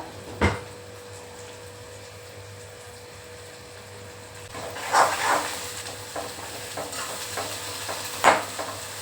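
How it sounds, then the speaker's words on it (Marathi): Sliced onion and two garlic cloves are stirred in hot oil in a pan on a gas stove. A soft, steady sizzle runs throughout, and the scrape of a spatula is heard now and then. "कांदा चांगला लाल रंगावर परतून द्यायचा आहे आपल्याला"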